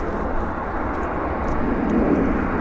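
An Embraer jet airliner at Vancouver airport produces a steady broadband engine roar, distant but full, holding level throughout without voices.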